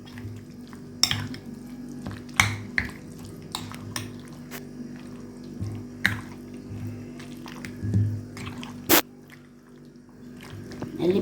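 Sliced chicken breast being turned by hand through a wet marinade, giving soft squishy, irregular stirring and slapping sounds with a few sharper knocks against the bowl, close and fairly clear.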